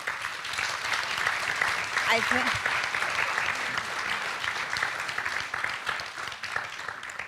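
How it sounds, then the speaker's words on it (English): Conference audience applauding the panelists, a sustained, even round of many hands clapping at moderate distance, with a brief spoken phrase heard over it early on. "a round of applause."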